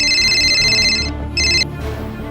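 A mobile phone ringtone rings loudly and close for an incoming call, an electronic trill sounding in two bursts with a short gap between them.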